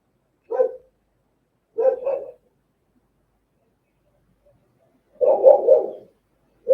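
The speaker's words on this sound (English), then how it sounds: "my dogs are barking at something" Dogs bark indoors, with a single bark followed by a double bark, then a longer burst of barking after a pause, moderately close and with no talk over them.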